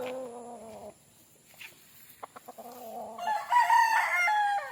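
A Boston Roundhead gamefowl rooster crows, a drawn-out cock-a-doodle-doo up close, then after a pause with a few clucks and clicks another crow rises loudly near the end, with no talk.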